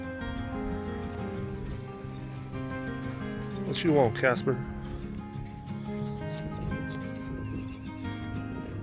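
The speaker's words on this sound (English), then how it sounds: "Hear those horses over there?" Horses whinny and shift about outdoors, a brief, rising neigh standing out over a steady background while someone talks nearby.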